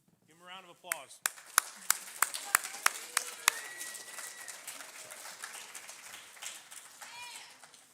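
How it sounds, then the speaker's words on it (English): Applause at a junior high academic awards ceremony: a voice speaks briefly, then a series of loud, distinct hand claps rings out close by, thinning into softer scattered clapping and murmuring voices in the hall. "Give them a round of applause."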